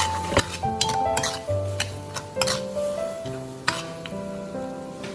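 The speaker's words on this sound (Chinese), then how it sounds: "再快速的翻炒，将红椒炒至断生。" Red peppers and chicken feet stir-fried in a wok, a spatula scraping and clinking against the metal in quick strokes over a soft sizzle, with sharp clangs standing out.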